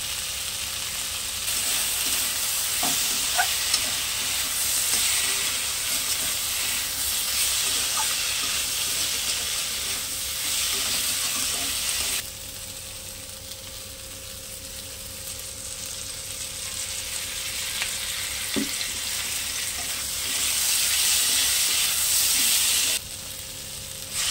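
Ginger paste and dried chili powder fry in oil for a light fish and greens curry, giving a long, steady hiss with occasional faint spoon scrapes and a quieter stretch midway.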